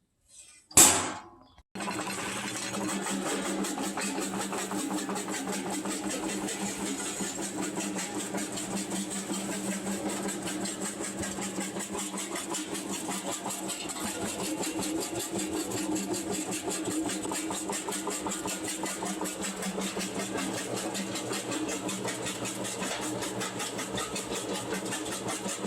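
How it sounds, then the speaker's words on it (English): A small lab jaw crusher crushing an ore sample down to quarter-inch pieces starts with a sharp knock, then runs as a steady mechanical drone with a fine rapid rattle for over twenty seconds, close and alone. "now we're going to crush our sample through this little lab jaw crusher here"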